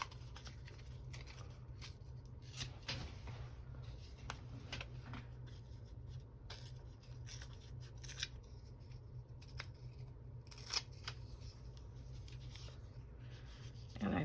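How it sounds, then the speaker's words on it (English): Paper from a page bearing a child's handwriting is torn and handled up close, giving scattered crisp ripping and rustling bursts over a steady low hum, with no talking. "So I'm gonna tear a little piece out."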